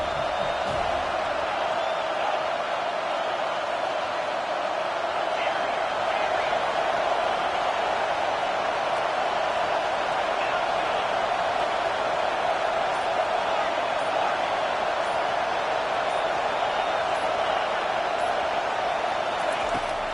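A college football video game crowd, SMU vs FSU, roars steadily in the stadium as the home fans try to keep the opponent pinned deep, with an announcer's voice over the din.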